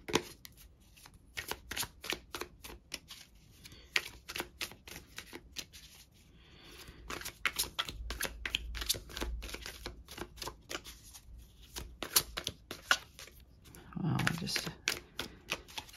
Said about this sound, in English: Failing at shuffling today.